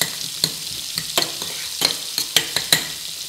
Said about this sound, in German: Die Schalotten dazu und lassen das Ganze dann ein bisschen die Zwiebeln ein bisschen anschwitzen